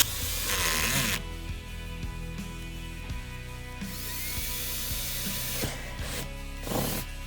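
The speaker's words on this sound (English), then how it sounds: "I'm just gonna drill a hole here" A power drill whines steadily while boring holes in the bottom of a plant pot, with short louder bursts as the bit bites in, close by and with no talking.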